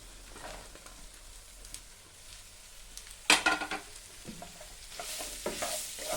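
Sliced onions dropped into a pan of frying gram flour batter for dry chilli chicken, giving a sudden loud sizzle midway that settles into steady frying and stirring crackle, with no talking.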